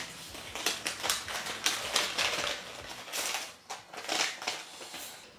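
A paper envelope is torn and pulled open, giving close, crackly rustling and ripping bursts that rise and fall over a few seconds, with no voices.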